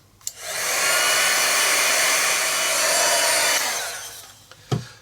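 A hair dryer blows steadily for about three and a half seconds, drying black Posca paint pen lettering on an art journal page, then switches off, with a short knock near the end.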